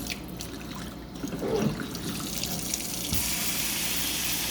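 Tap water runs steadily into a sink nearby, a continuous hissing splash that grows slightly louder partway through.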